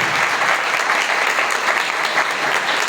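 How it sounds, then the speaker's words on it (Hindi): Loud, continuous applause from a church congregation during a Sunday service, a dense even roar of clapping with no gaps. "जोरदार तालियां मेरे यीशु के लिए।"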